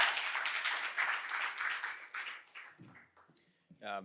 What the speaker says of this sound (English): So hand applause for all the support people.